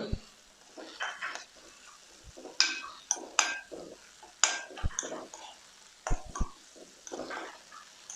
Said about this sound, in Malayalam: നമുക്ക് ഈ നെയ്ക്കകത്തോട്ട് തന്നെ നമ്മുടെ സേമിയിട്ട് വറുത്തെടുക്കാം.